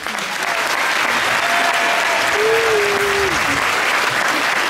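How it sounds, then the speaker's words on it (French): An audience at a Miss 15-17 pageant election in Arc-lès-Gray applauds loudly and steadily for a boutique manager being introduced, a dense, even wall of clapping throughout. "Je vous laisse l'applaudir bien fort."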